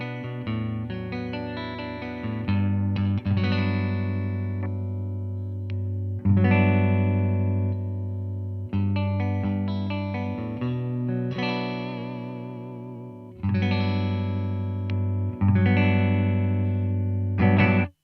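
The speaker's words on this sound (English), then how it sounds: "you can get some kind of single coil sort of chimey tones out of this" An ESP LTD electric guitar plays bright, chiming single-coil chords and arpeggios with an effect-laden shimmer, each strum ringing out before the next.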